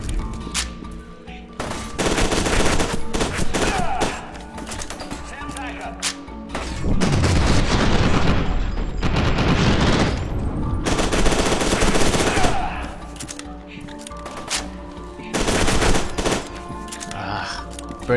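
Gunfire in the video game FEAR 2: sustained loud automatic fire in long bursts with short pauses, close and continuous throughout, with a voice talking.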